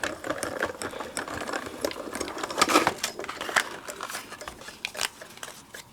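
Diamond Press die-cutting machine running paper and a die through, a continuous mechanical whir with rapid clicking and rattling, close and moderately loud.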